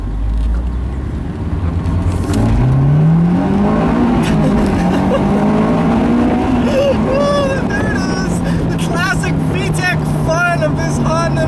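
A 2004 Honda car with a 2.2-liter engine accelerates loudly on the road, its pitch climbing steadily through the gears with a road and engine roar. Someone talks over it throughout.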